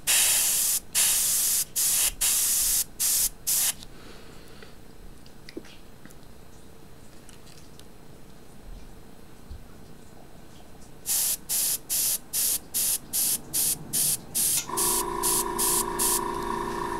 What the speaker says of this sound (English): I'm gonna spray real light though.